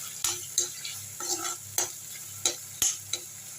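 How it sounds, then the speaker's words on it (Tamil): Onion and ginger garlic paste sautéing in a pan, with a soft sizzle under repeated sharp scrapes and clinks of a spoon stirring against the metal at an irregular pace. "இதே நல்லா வதக்கிப்போம்."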